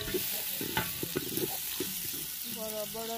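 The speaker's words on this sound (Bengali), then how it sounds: "এদিকে গোস্তের তরকারির মধ্যে হালকা একটু নাড়াচাড়া করে দিচ্ছি।" Meat curry being stirred in a large cooking pot, a steady run of scraping, clinking strokes over a soft sizzle, close and moderately loud with no talking.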